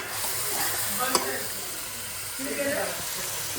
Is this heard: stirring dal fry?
yes